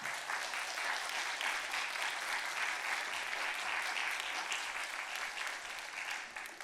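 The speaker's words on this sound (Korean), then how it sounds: "감사의 박수 드리겠습니다." Congregation applause at a Thursday women's worship service in a Korean church, welcoming a missionary to the pulpit: a dense, even roar of many hands, moderately distant, holding steady for several seconds before easing slightly.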